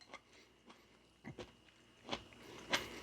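Quiet crunchy chewing of cooked vegetables from a bulk store, a few soft bites and crunches spread over a few seconds, close and faint.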